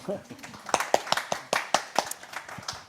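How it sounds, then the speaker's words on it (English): Scattered hand claps from a small group at an events assistant apprenticeship presentation, a dozen or so sharp separate claps over a few seconds, fairly close, with some talking mixed in. "round of applause first of all"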